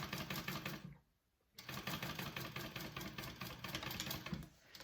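A sewing machine basting a zipper to a bag's exterior, a fast rattling stitch run that stops for about half a second, then resumes at a steady pace, close and without talking.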